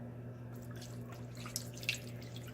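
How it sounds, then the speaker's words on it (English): Water is poured into a cooking pan to clean off grease and grime, a faint, steady trickle with a couple of small splashes partway through, alone without talk. "We're going to add some water."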